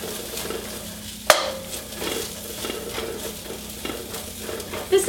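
Vegetables sizzle and hiss in hot oil inside a large wok while a utensil scrapes and tosses them, with one sharp metallic clank early on and steady frying noise throughout.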